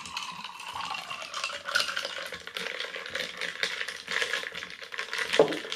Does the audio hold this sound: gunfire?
no